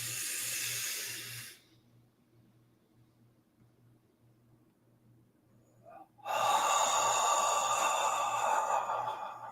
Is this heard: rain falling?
no